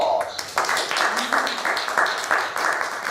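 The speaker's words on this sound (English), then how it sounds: "please give this brave person a round of applause" A theater audience applauds a person heading onto the stage with steady, dense clapping that stays fairly loud and close throughout, with faint talk mixed in.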